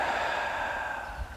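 One soft, breathy exhalation during a Tai Chi and qigong exercise, close and steady, with no talk.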